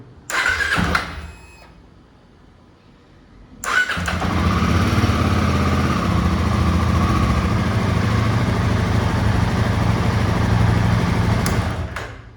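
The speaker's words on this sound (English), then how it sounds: "I crank the engine." After a brief clunk and a quiet pause, a Royal Enfield Himalayan 450 motorcycle engine cranks and fires up, then settles into a steady, rumbling idle close by.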